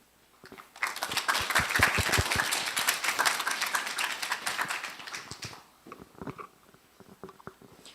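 A live audience at an English talk concert in Daegu breaks into a dense burst of clapping that swells, holds for several seconds, then thins to a few scattered claps.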